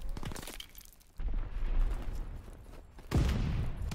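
Type 100 submachine gun fire in Call of Duty WWII, heard as dense bursts of rapid shots with booming battle noise behind them, loud and continuous across the moment.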